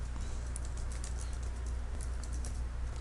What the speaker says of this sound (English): we're going to type, this is Jane's first document.